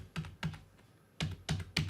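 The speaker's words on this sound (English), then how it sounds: "I'm just using standard JKL keyboard shortcuts" Computer keyboard keys pressed for J, K and L editing shortcuts in a web-based video editor: close, crisp taps in small clusters with a short pause between groups, no talking.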